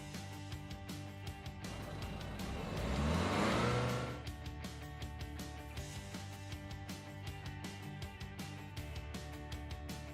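A car engine revs up briefly, swelling to a peak and then settling back to a steady idle, close by with no talking.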